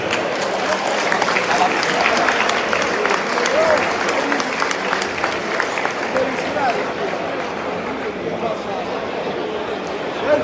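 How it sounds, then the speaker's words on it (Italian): A crowd at a Veneto versus Toscana fighting event applauds, with sustained, energetic clapping for about ten seconds while a voice and crowd chatter carry over it. "un applauso a tutti i ragazzi che hanno combattuto nella prima parte"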